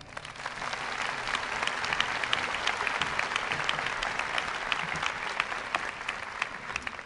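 Audience at the UNC School of Education 2013 commencement applauding to welcome speaker Malbert Smith, a dense, steady wash of clapping from a large crowd that holds loud for the whole stretch.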